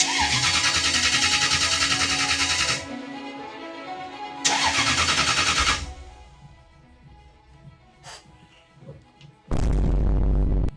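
A BMW E46 fitted with a swapped Toyota 1UZ V8 cranks loudly in three separate bursts, with quieter gaps and a few faint clicks between attempts.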